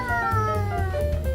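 A pet cat lets out a long, drawn-out, whining meow at close range, loud and sustained with a wavering pitch, and no one speaks over it.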